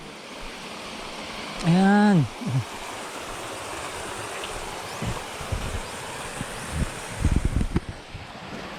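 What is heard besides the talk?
Magana Falls waterfall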